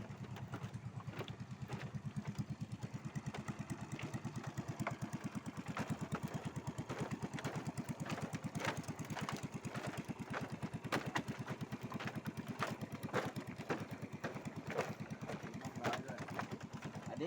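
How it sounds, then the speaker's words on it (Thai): Fishing boat engine chugging steadily with a fast, even low thump as the boat passes beneath a wooden bridge, loud and continuous throughout with no talk. "เรือกำลังลอด ลอด ลอดสะพาน ผ่านสะพานลูกบวกไปนะครับ ตอนนี้เรือ ประมง"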